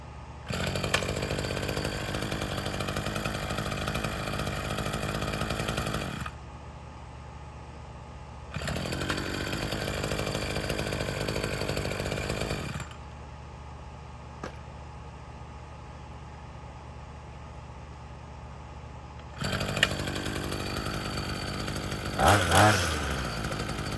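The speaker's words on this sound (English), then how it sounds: "It does run and rev a lot better." Small Chinese-made lawn equipment engine running and revving, a loud buzzing drone that cuts out and restarts in several bursts across the clip, with a few clicks near the end.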